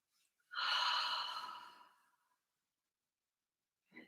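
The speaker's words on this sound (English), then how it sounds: "Breathe out completely." One long, deep exhale released during a gentle morning yoga session, a close breathy sigh rising quickly then fading over about a second and a half, followed by quiet and the start of a faint breath.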